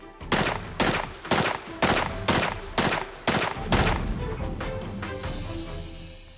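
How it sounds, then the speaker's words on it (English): A submachine gun fires at body armor during a factory armor test, delivering about eight sharp, loud, evenly spaced shots with a lingering ring after the last. "Then the process is repeated with the submachine gun."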